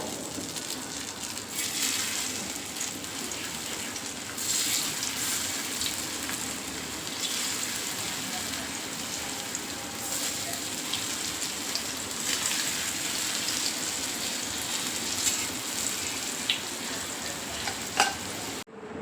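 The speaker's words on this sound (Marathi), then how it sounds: "आपलं तेल आता गरम झाले. आपण ह्या वड्या याच्यात सोडूया" Coriander vadi, Maharashtrian kothimbir wadi slices, frying in hot oil on a tava over gas: a steady, dense crackling sizzle that holds throughout with slight swells, close and continuous with no talk.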